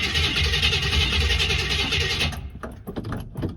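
A 1969 Buick Skylark engine cranks loudly and steadily for about two seconds, then cuts off, leaving irregular mechanical clatter and knocks nearby.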